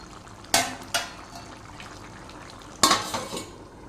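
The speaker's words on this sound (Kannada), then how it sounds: "ಇವಾಗ ಚಿಕನ್ ಸುಕ್ಕ ಮಾಡಲಿಕ್ಕೆ ಚಿಕನ್ ಬೇಯ್ತಾ ಇದೆ" Chicken cooking in a pan for chicken sukka: a quiet simmer broken by a few sharp clanks and scrapes of a spoon against the pan, close by with no voices.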